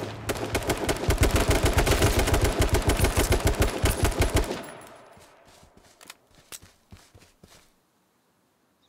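Machine-gun fire in the H1Z1 battle-royale game rattles out as a loud, dense burst of rapid shots for about four and a half seconds, followed by a scattering of quieter, separate shots that fade into silence.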